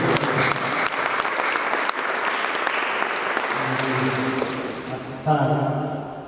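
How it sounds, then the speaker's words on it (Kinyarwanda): A concert crowd claps steadily and densely throughout, a sustained wash of applause with a brief ringing tone near the end. "Mwongere munyemerere Yesu dukomere amashyi ku gikorwa yakoze."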